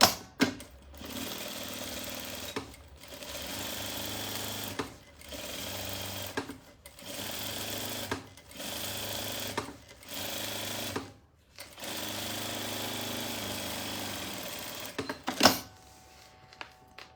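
Close, loud sewing machine stitching a patchwork seam on a small fabric pouch, running in a steady series of roughly one-second bursts with brief stops between them. The motor whirs and the needle clatters, followed by a final clunk and a few quieter taps.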